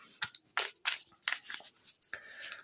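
Board game tiles being mixed make a few sharp, dry clacking and scraping bursts close by, irregular and brief, with no talking.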